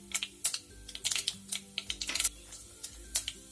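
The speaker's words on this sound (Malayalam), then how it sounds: "കടുക് പൊട്ടി വന്നിട്ടുണ്ട്, ഉഴുന്നിട്ട് കൊടുക്കാം." Mustard seeds popping and crackling in hot oil in a pan while tempering for vermicelli upma, a rapid irregular series of sharp close pops with a low sizzle underneath.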